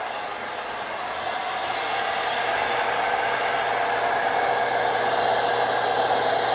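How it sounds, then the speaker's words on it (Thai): A handheld hair dryer blows steadily on sectioned hair during an at-home hair and makeup session, a constant close whooshing roar that holds unbroken and grows slightly louder throughout, with no talk over it. "ก็แบ่งผมแล้วก็ เป่ามันจะได้แห้งนะคะ"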